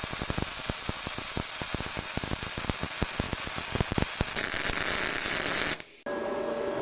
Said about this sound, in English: Wow, and as you can see, that is a really nice weld. A lot of spatter though.